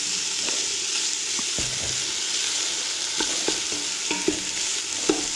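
Chickpea curry base frying in a pan and stirred now and then, a steady close sizzle with scattered spoon scrapes and knocks against the pan, no voices.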